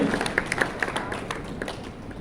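Scattered clapping from an audience at an inaugural ceremony, uneven and moderately loud at first, thinning out toward the end.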